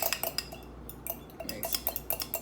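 A fork clinks and scrapes against a dish while mixing egg yolk for apple pie, with quick irregular metallic taps repeating close by and no talk.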